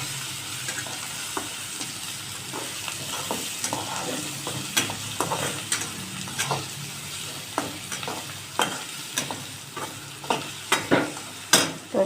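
Onions sizzling in hot oil in a pan while being stirred for egg bhurji, a constant frying hiss broken by scraping stirs and clacks that grow sharper toward the end, close up with no speech.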